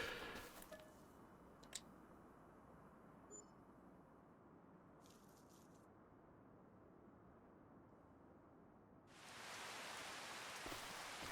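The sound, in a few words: rain in the video game Farming Simulator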